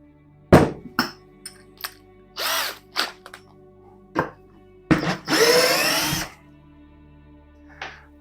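A Parkside 12V cordless drill-driver unscrewing a screw whirs in several short loud bursts, then one longer sustained run before a final brief blip, close up with no speech.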